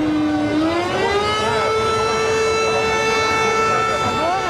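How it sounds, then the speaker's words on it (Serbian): Sirens wail in sustained rising and falling tones to greet rowers in traditional boats during the Neretva boat marathon, the Maraton lađa, loud and continuous throughout, with a background crowd and a possible murmur of voices. "uz zvukove sirena i crkvenih zvona oduševljeno pozdravlja svoje lađare"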